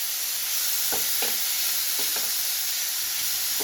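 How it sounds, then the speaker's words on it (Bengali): Chopped onion fries in a pan for palak paneer, giving a steady close sizzle and hiss with a few soft stirring scrapes at irregular intervals. "পেঁয়াজ কুচিটাকে দিয়ে দিলাম। খুব বেশি লাল লাল করে ভাজতে হবে না।"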